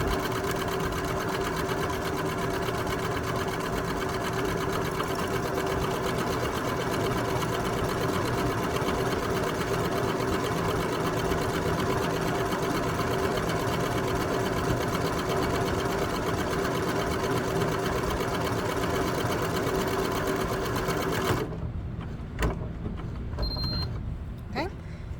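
A sewing machine runs steadily while stitching a seam in fabric, a continuous close whirring motor hum that lasts about twenty seconds and then stops abruptly, leaving near silence with faint handling noises.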